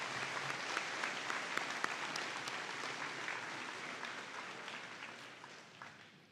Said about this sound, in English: Please join me in another round of applause for Mr. Ginzel.